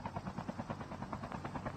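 Helicopter in the mobile game Call of Duty Mobile, a steady rapid rotor chop with a low engine drone throughout.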